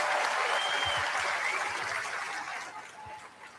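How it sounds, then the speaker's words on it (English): A studio audience applauds a brave teenage guest, a broad, even round of clapping that starts strong and slowly tapers toward the end. "Another round of applause,"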